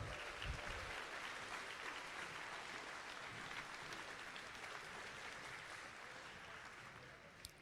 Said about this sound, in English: And another big round of applause for our generous sponsors